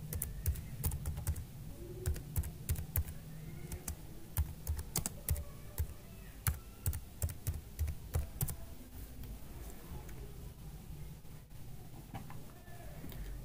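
Fast, irregular typing on a computer keyboard fills the whole stretch, with close, crisp key clicks in uneven bursts and no talk over them.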